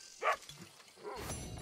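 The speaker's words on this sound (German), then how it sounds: "Guter Hund, ne? Bisschen abgemagert" A dog in the Western world of Red Dead Redemption 2 gives a single short bark, moderately close, followed by low rustling game ambience.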